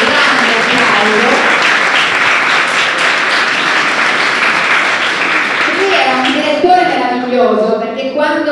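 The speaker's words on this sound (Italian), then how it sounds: "Facciamo un applauso, facciamo un grande applauso." Audience at a comics and games convention breaks into sustained loud applause that gradually thins out as a voice begins speaking over it near the end.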